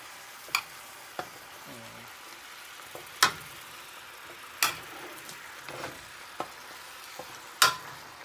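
Igado meat sautéing in a pan, a soft steady sizzle broken by sharp, spaced clinks and scrapes of a utensil stirring against the pan, close and fairly quiet.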